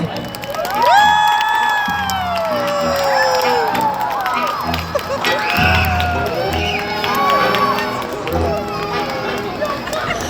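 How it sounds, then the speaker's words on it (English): A loud crowd of children at a seal show cheering and shouting, with bright whoops and yells rising and falling over steady clapping, sustained throughout. "let's try it one more time with an even bigger round of applause this time"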